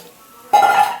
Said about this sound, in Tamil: இதுக்கு நம்ம தண்ணி இப்போ ஊற்றிக்கலாம்.